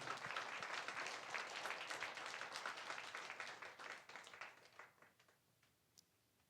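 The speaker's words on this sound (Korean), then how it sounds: "우리 하나님께 영광의 박수 올려드립니다" Church congregation applauding in praise during a sermon, a dense wash of many hands clapping together that swells loudly, then thins and fades out toward the end.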